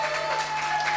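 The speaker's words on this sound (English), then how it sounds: "can we have a massive round of applause for the two brilliant acts that you've already seen" Audience at a live comedy night applauding the acts, a dense steady wash of clapping throughout with no pauses or voices.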